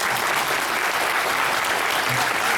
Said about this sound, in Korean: 감독님 배우분께 큰 박수 부탁드리겠습니다.